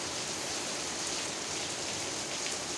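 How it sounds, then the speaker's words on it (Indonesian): Light drizzle falling outside on a Sunday afternoon, blowing in toward the edges of a doorway. Heard as a steady, even hiss of rain with no voices. "hari Minggu sambil hujan di luar, agak gerimis sampai ke pinggir-pinggir pintu nih"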